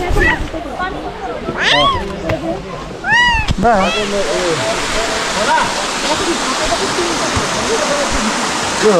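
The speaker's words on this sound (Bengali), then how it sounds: "আমাদের দেখা প্রথম ফলস।" Elephant Falls waterfall near Shillong, a steady broadband rush of falling water running throughout, with people talking and chirpy voices over it in the first few seconds.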